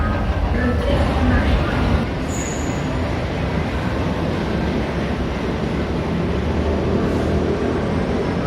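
A train approaching a station in Bangkok rumbles heavily nearby with a steady roar and a brief high-pitched squeal of wheels, loud throughout with no clear talking.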